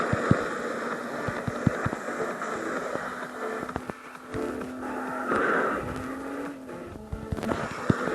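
Cars drift in the racing video game Asphalt Nitro, with steady engine drone, tire squeal and skidding bursts, plus scattered crash and impact effects, at moderate loudness with no voices.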